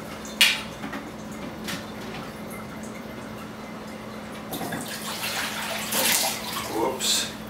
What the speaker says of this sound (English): I'll just pour some of this into this bowl here.